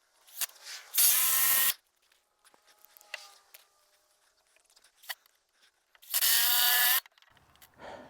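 A power drill drives 3.5-inch Torx-head screws into 2x4 lumber in two loud, close bursts of about a second each, separated by quiet handling clicks and small knocks.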